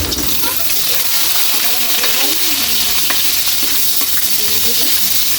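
Garlic and onion fry in a pan for a catfish dish in coconut milk, giving a loud, continuous, close sizzle that runs throughout with faint voices underneath.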